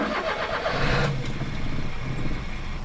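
A mini truck left out overnight in freezing cold cranks and starts, its engine catching and running loud and close with a steady rumble throughout.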